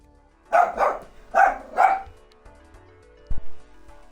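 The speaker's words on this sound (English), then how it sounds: "Sorry about the dogs." Dogs bark nearby in a short burst of four loud woofs, followed by a quieter pause and one more brief yap in an indoor room.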